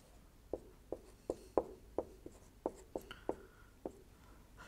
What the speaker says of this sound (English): which we now can write like that